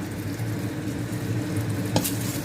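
Red curry paste fries in boiling coconut cream for Thai panang pork curry, a dense, loud bubbling sizzle close by with a brief stirring clatter near the end and no voices.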